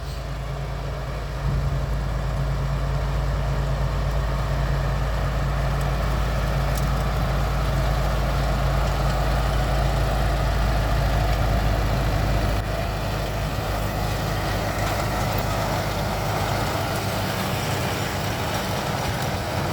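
Zetor and Kubota tractors working a hay field, mowing and raking into windrows, with a steady low diesel drone that is loud and continuous, rising slightly in the middle and easing toward the end, with no voices.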